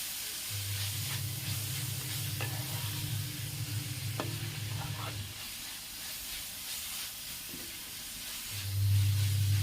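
Onions and green chillies sauté in a pan for beef biryani masala, a soft continuous sizzle with occasional stirring scrapes and a low hum that drops away midway and returns near the end.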